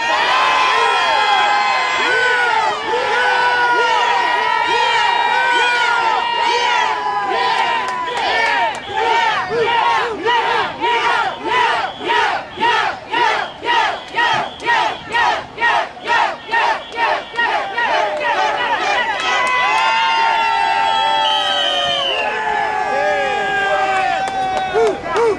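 A large protest crowd blocking Broadway cheers and shouts, then settles into a loud rhythmic chant with regular pulsing beats before breaking back into scattered cheering and whoops, close and full throughout.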